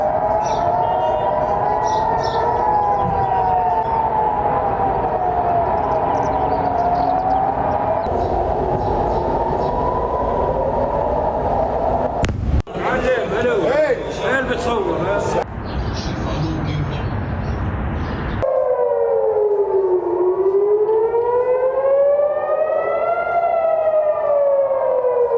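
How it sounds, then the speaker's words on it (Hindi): Air raid sirens wail over Jerusalem during missile interceptions, long rising and falling tones sweeping loudly, broken midway by a harsh burst of roaring noise before the siren sweeps return, overlapping and clear. "मिसाइल को इंटरसेप्ट करने और सायरन बजने की आवाज़ें सुनी जा सकती"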